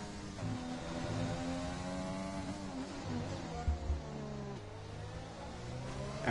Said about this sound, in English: listen to the car and the shifts